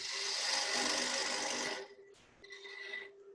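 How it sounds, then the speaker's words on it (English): A spindle gouge cuts a wooden bowl on a lathe, a loud steady scraping hiss over the motor's hum that drops off, then a shorter, lighter cut resumes, close by. "I'm still using a spindle gouge"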